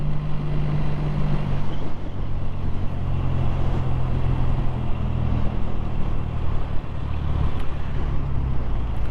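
A BSA A10 650 motorcycle engine idles at low revs, a steady, close, low-pitched rumble that runs without a break and with no talking.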